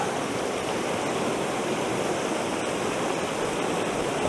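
A small waterfall in Glencoe pours steadily as a dense, unbroken rush of water, close and loud and unchanging throughout, with no voices.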